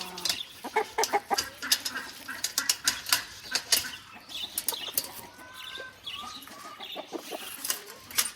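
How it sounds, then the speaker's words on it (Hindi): Restless farm hens clucking in a busy, overlapping chorus with occasional bursts of wing flapping, fairly close and continuous throughout. "और मुर्गियाँ देखें आप किस तरह सारी बेचैन हो रही हैं।"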